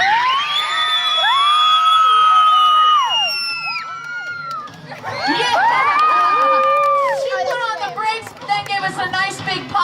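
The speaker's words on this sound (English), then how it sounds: "I want to hear a big scream for Sushi." Crowd of children and adults at an outdoor farm dog show screams and cheers loudly for a small dog, with high shrill shrieks and whoops swelling, dipping briefly, then surging again.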